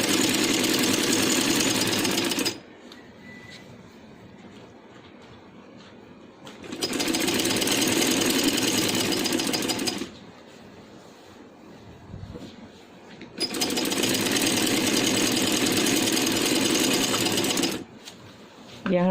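A sewing machine stitches the seam of a handmade long night gown in three loud, steady bursts, with short quiet pauses between runs and no talking.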